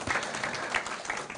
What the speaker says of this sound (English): May we applaud her again